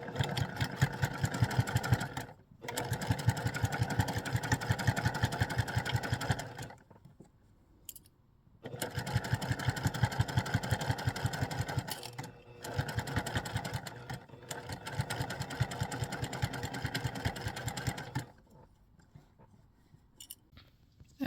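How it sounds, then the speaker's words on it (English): A sewing machine stitches fabric close to a zipper in several bursts of rapid steady stitching, each a few seconds long, separated by short pauses. "I'll take it to the sewing machine and stitch it as close to the zipper as I can."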